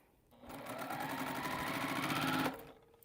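A sewing machine stitches quilt pieces for an Africa map quilt, a close, steady motor whir with rapid needle rhythm running for about two seconds before stopping.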